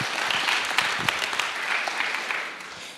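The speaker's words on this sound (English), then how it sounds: "big applause for our startups" An audience at a startup opening ceremony breaks into applause for the startups, a dense burst of clapping with a few sharper claps that tapers off over a few seconds.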